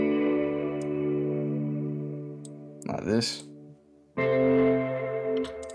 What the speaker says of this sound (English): I'll add a bit more distortion as well.